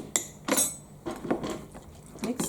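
Garlic powder being mixed into a bagel filling in a bowl, with a utensil scraping and clinking against the dish in several short, uneven strokes, close and moderately loud, with no talking.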